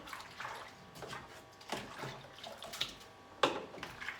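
Running tap water splashes and sloshes inside a baby feeding bottle being rinsed, with uneven gurgles and a sharper splash near the end, close by.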